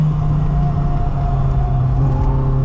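A 1986 Volkswagen Scirocco 16V engine held at full throttle, a steady loud droning roar with a slowly rising whine, heard from inside the car with no talking.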